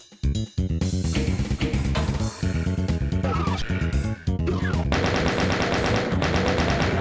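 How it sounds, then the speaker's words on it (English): Rapid bursts of gunfire from the video game DOOM II: Hell on Earth, dense and loud, with machine-gun-like rattles and a brief pause near the middle before the shooting resumes. "I'm gonna lower the gunshots just a bit here"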